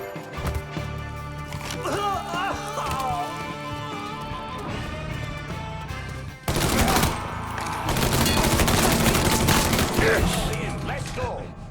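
Gunfire in the Mafia 3 video game: a rapid burst of shots, then a louder sustained fusillade of automatic weapons fire crashing in about halfway through and continuing to the end.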